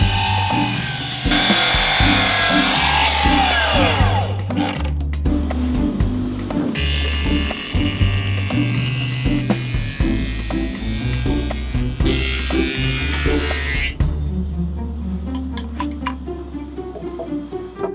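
A jointer flattens one face of solid wooden boards in a woodworking shop, a loud continuous motor whine with repeated cutting passes layered over a background of music.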